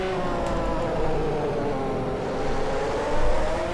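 Race car engine on throttle in a racing video game at Interlagos, a continuous loud drone that climbs steadily in pitch as the car accelerates, heard alone without talk.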